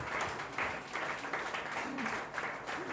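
An audience at a Hindi-language church sermon claps in quick repeated bursts, a fairly steady patter of hands, with a faint voice now and then underneath.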